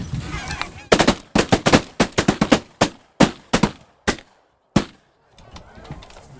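Video game gunfire aimed at birds: loud, close gunshots in quick bursts and single cracks, spaced by brief gaps and tapering to a few final shots, with no talk over them.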